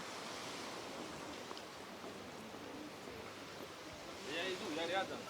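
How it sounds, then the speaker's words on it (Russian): Choppy sea waves washing onto the shore at a Sochi beach, a steady soft broadband rush, fairly faint, with a brief voice rising near the end. "Прям слышно шум моря."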